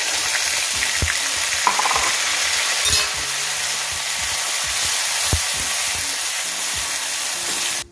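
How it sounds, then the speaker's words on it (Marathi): Tomato puree hits a hot cumin and coriander tempering for a paneer bhaji and sizzles loudly and steadily throughout, with a few soft clinks of a spoon against the pan. "त्यानंतर ही जी प्युरी आहे ती टाकून घेऊ"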